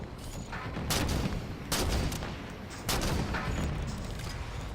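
Sniper rifle fire in the video game Halo 5 Warzone: three loud, sharp shots about a second apart, each with a booming tail, over constant noisy battle ambience.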